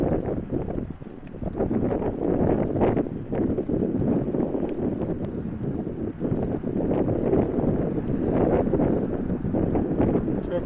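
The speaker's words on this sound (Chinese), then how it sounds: "今天虽然不是很冷啊，但是风很大。 现在我顶着风在骑行。" Strong winter headwind buffeting a cyclist, a loud continuous roar and gusting rumble across the whole clip with no speech.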